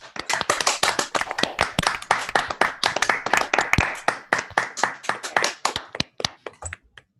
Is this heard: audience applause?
yes